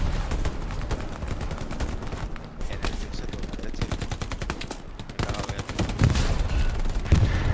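Rapid bursts of rifle and machine-gun fire crackle through a Hell Let Loose battle near a port, with sporadic explosions and overlapping shots under players talking over voice chat.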